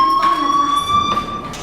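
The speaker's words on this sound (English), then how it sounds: "do you hear that fire alarm? That means you should be outside." A fire alarm rings in the video game Life Is Strange, a loud continuous electronic tone with steady pitch and pulsing bursts, filling the scene with no talking.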